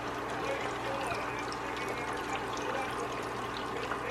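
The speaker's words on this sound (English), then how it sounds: "put it in the batter, and throw it in the fryer" Battered Cajun shrimp frying in a deep fryer give off a steady, continuous sizzle and bubbling hiss that holds even and fairly loud from start to finish.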